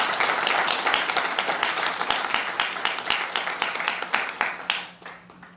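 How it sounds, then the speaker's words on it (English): Audience applause at a community workshop on inclusive emergency preparedness in Scarborough, Toronto, a burst of close, crisp clapping that stays loud, then tapers off near the end. "Let's give a round of applause for them."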